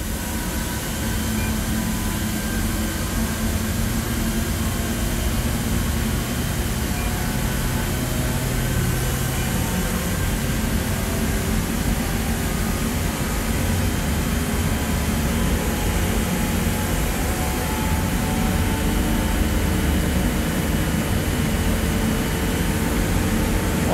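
A huge 600A industrial compressor motor runs with a loud, constant hum and drone that stays steady and unbroken for the whole stretch, with no voices.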